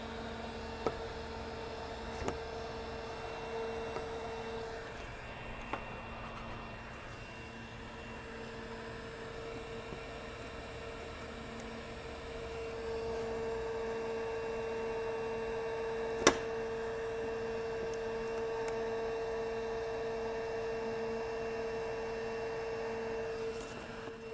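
A RIDGID R860435 18V cordless heat gun running steadily, a continuous close whirring fan hum with a tonal whine, brief clicks near the start and a sharp tick midway.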